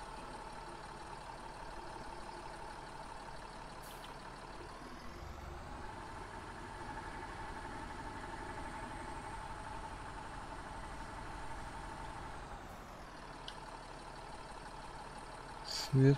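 A Kharkiv HTZ tractor engine in a farming game idles in a steady, even drone, with the pitch rising for a stretch midway and dropping back near the end. No one speaks.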